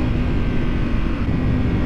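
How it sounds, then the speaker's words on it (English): Ducati 848 EVO sport motorcycle from 2013 with a loud exhaust, a steady dense engine drone holding under way without breaks, close and strong, with wind noise mixed in and no speech. "This exhaust is loud."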